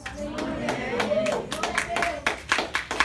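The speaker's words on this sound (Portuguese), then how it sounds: "Aplaude com vontade," Congregation clapping during a church testimony service, rhythmic claps in bursts with voices over them, moderately close.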